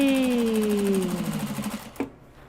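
A sewing machine stitches a seam with a generous quarter-inch allowance, starting as a fast whirring run of stitches that gradually slows, then ending with a single clunk as it stops.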